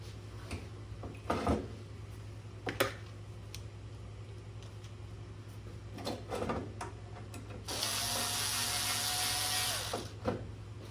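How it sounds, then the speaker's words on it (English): A few clicks and knocks of handling parts, then a single burst of a power screwdriver driving a mounting screw into the main board of a Pioneer EZ Shrink EZ3k, over a low steady hum. "Take our mounting screws. Try to get one started to hold it in place for you."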